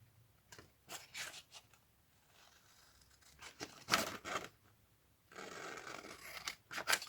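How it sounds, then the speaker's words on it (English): Scissors cut a piece off a handmade craft project, giving crisp, close snipping and rustling in separate bursts with quiet gaps between them. "I'm just going to cut this piece off."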